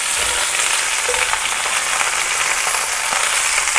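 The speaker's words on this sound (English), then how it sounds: "Just listen to that amazing sizzle in the pot." Oxtail meat browns in hot oil in a pot, a dense, continuous close-up sizzle and crackle with occasional stirring scrapes and no talk.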